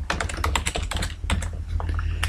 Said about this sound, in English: Type that in A1.